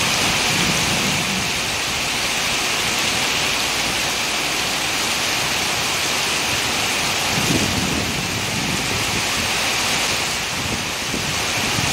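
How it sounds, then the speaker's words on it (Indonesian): Heavy rain pours down steadily in a dense, loud hiss from a bus travelling toward Jakarta, with a low rumble of thunder surfacing briefly partway through. "Ini hujannya lebat sekali."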